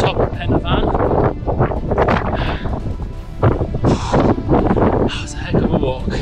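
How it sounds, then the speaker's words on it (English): Heavy wind buffeting the microphone in constant rumbling gusts near the summit of Pen y Fan mountain, with a voice talking underneath the roar. "It's quite windy up here"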